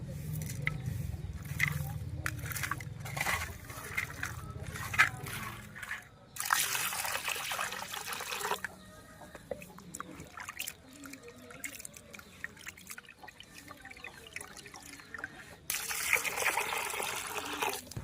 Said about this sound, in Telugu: ఉప్పు పసుపు వేసి 2 సార్లు నీట్గా కడుక్కుందామండి